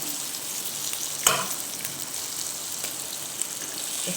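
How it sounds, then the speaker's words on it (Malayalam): Sardines fry in a pan with a steady, bright sizzle throughout, while a spatula gently pushes them around, adding a soft scrape partway through. "ചട്ടുക എടുത്ത് ഇങ്ങനെ പതുക്കേനെ നീക്കി കൊടുക്കാം."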